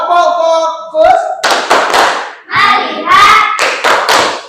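A classroom of students claps hands together in a rhythmic focus clap routine, sharp bursts in quick patterns, close and loud, with a teacher's voice leading between the claps.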